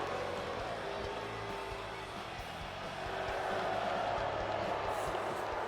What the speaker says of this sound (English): listen to the crowd boo them out